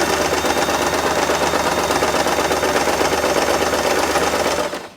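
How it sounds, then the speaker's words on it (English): A sewing machine runs continuously at high speed, joining fabric strips end to end into one long piece for multicolour scrunchies; a steady, loud mechanical chatter fills the clip before stopping abruptly at the end. "I have sewed the fabric to make a long piece of fabric."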